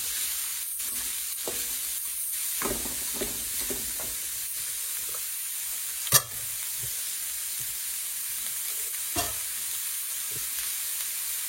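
Mango pieces sizzle and crackle in a hot frying pan with green onions, a steady close hiss of stirring and frying with a few sharp pops and clinks along the way.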